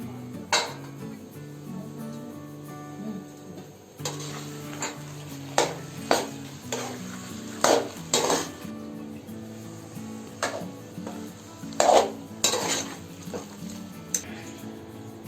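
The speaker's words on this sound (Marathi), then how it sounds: "तळलेल्या भाज्या ज्या आहेत ना त्या टाकूया याच्यामध्ये." Fried vegetables being stirred into gravy in a pan for veg Kolhapuri: a soft background sizzle broken by a dozen or so sharp spoon scrapes and clanks against the pan, irregularly spaced and close.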